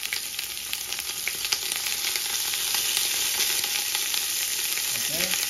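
Vegetables sizzle and crackle in very hot olive oil in a pan, a steady close frying hiss with scattered pops, no talking.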